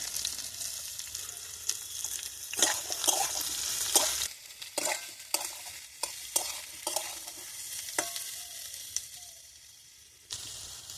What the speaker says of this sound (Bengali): এর মধ্যে এবার আমি পেঁয়াজগুলো দিয়ে দেবো